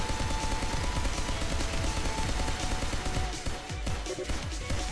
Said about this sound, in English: the enemy aircraft is just firing into the sky